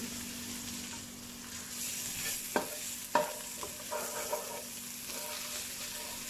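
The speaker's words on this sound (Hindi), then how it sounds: "अब हम इसमें लहसुन अदरक चॉप किया हुआ डालेंगे और इसको हल्का सा फ्राई करेंगे।" Soft, steady sizzling of chopped garlic and ginger frying in oil, broken by a few sharp scrapes and stirs of a utensil in the pan, with no talking.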